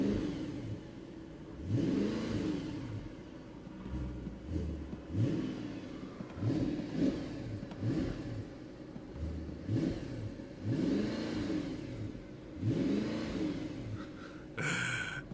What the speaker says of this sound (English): How do you guys like the original V8 sound?